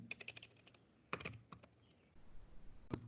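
Computer keyboard typing in quick bursts of clicks, a rapid run of keystrokes followed by a few scattered taps and pauses, close and fairly quiet with no one talking.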